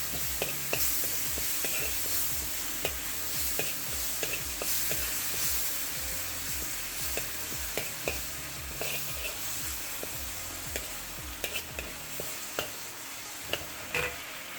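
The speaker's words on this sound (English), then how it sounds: "we're gonna let that stir fry up" A halibut stir fry with Shaoxing cooking wine sizzles steadily in a pan, a constant hiss broken by small ticks and pops, heard up close with no speech.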